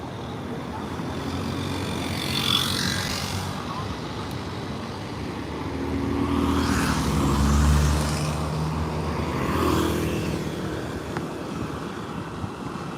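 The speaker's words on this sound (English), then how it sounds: "It's a dangerous place because it's like a 4-lane roundabout." Road traffic circles a busy four-lane roundabout in Phnom Penh, Cambodia, with cars and trucks. A steady roadway rumble is broken by three louder vehicles sweeping past at intervals, and a voice talks faintly underneath.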